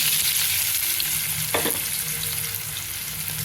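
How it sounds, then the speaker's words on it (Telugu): Onion pieces and green chilies sizzle in hot oil in a kadai, a steady dense frying hiss that runs throughout, with a brief clatter of stirring midway. "ఈ ఉల్లిపాయ ముక్కలు, పచ్చిమిరపకాయలు వేసేసుకుందాం"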